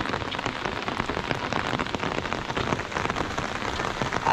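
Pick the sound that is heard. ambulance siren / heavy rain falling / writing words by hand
heavy rain falling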